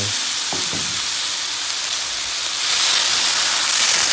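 Pounded chilli-garlic paste and fish balls stir-fry in a hot pan, a loud continuous hissing sizzle with a few scraping stirs early on that swells louder toward the end.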